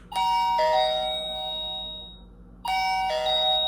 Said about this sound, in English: That would make the chime sound.